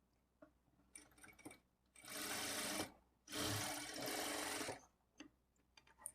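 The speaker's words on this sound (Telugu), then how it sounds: "ఇప్పుడు ఈ నెక్ వైపు నుంచి స్టార్ట్ చేసుకొని 1/2 ఇంచ్ మార్జిన్తో షోల్డర్స్ని జాయింట్ చేసుకోవాలి" Two bursts of a sewing machine joining a blouse shoulder seam from the neck edge at a half-inch margin, each loud and close and lasting about a second, with quiet handling noises between and around them.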